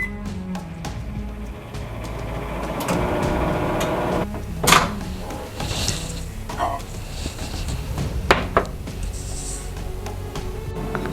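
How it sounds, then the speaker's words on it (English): A microwave oven runs with a steady low hum, with a few sharp clicks and beeps scattered over the noise. "I'm going to go ahead and set the microwave for 45 seconds now."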